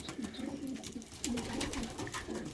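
A pigeon coos softly in repeated low, throaty phrases, fairly close, with faint background noise.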